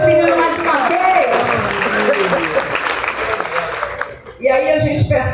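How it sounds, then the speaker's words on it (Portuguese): Audience at a women's church mission gathering applauds steadily for several seconds, with music and voices running underneath. "vamos aplaudir esse menino mais uma vez"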